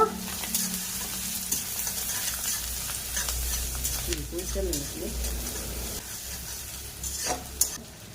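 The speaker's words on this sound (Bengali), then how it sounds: "চিংড়ি মাছ দিয়ে কিছুক্ষণ ভেজে নেব পেঁয়াজ কুচি দেব আদা কুচি দেব কিছুক্ষণ ভেজে নেব" Shrimp with chopped onion and ginger fry in a pan for a spicy okra and potato curry, a continuous close hiss and crackle with stirring scrapes, a voice faintly present beneath.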